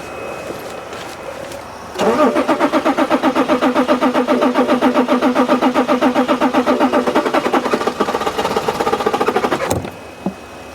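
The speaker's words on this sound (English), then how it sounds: "and start the engine. Let's see if it's gonna start." A BMW X5 with a crank-no-start fault, sprayed with starting fluid, cranks steadily for about eight seconds in a fast rhythmic whir, loud and close, then cuts off abruptly without catching.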